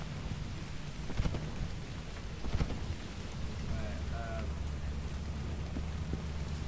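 Rain pours steadily in the video game Lethal Company, with thunder cracking and rumbling twice, loud and close, over the constant wash of the downpour.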